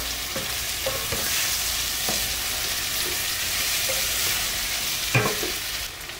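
Potatoes, carrots and boiled borlotti beans tossed into a hot pot, a steady loud sizzle with a few scattered spoon clacks and scrapes, one sharper knock near the end, no speech.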